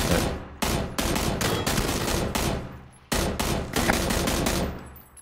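A DP-28 machine gun fires in PUBG, loud and close, in two sustained automatic bursts of rapid rattling shots with a brief pause between them.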